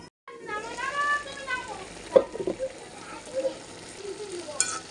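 Curry stirred in a covered pan, a soft low simmer with brief scraping and clattering stirs, quiet and close, with a voice speaking near the start.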